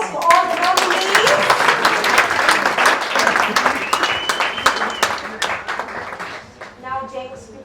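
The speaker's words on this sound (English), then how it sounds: "a big hand of applause for all the nominees" Applause from an awards-ceremony audience for the 2019 P.A. Awards nominees, sustained clapping across the whole stretch with cheers and voices mixed in, tapering near the end.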